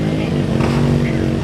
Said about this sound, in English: The first Suzuki Wankel has arrived.